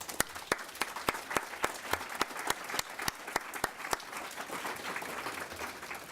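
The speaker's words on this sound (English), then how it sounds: "Let us applaud the Uruguayans and the Dutch" Attendees at a talk on LGBTQI2 rights clap, a moderate crowd with a few distinct, closer claps standing out in a loose rhythm before the sound thins into a softer, fading patter.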